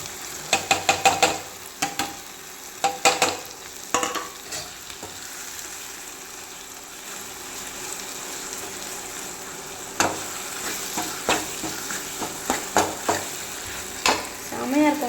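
Onion, tomato and three green chilies stir-fried for tomato thokku, with bursts of spatula scraping and clatter against the pan at the start and again near the end over a steady low sizzle.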